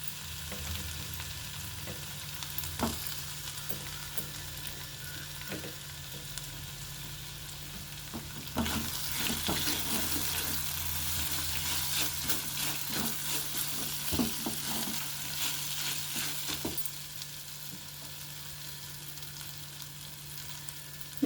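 Mango pieces being stir-fried with semiya and moong dal: a steady sizzle and frying hiss with scraping stirring strokes that swell louder in the middle, no voices.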